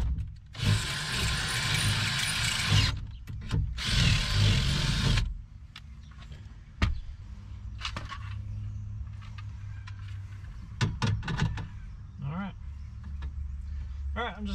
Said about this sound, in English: I got a hole marked. I'm just gonna drill this out.